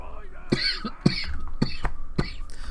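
Several short, sharp coughs break up at irregular intervals, close to the microphone, with quiet talking in between.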